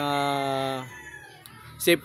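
A fighting cock crows once, loud and close, in a long harmonic call that fades out near the middle, followed by a brief sharp rustle or flap.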